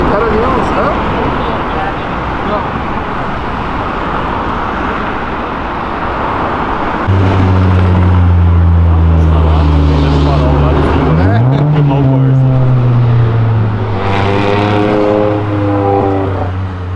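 Cars roll past at a Brazilian car meet, from an everyday Jetta to sports cars. A steady roadway rumble gives way to a loud, close engine revving with rising and falling pitch, while people talk nearby.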